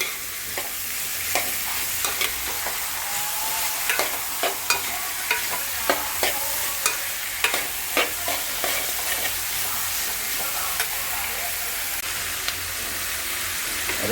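Onions sautéing in a pan for a chicken curry, a steady bright sizzle with repeated scraping and clinking strokes of a stirring spoon across the pan, close and continuous with no talking.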